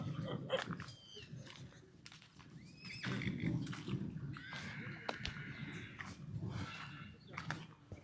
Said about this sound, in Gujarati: કાઠિયાવાડી અશ્વ ફાર્મ છે એમાં કુલ થઈને 58 ઘોડિયું છે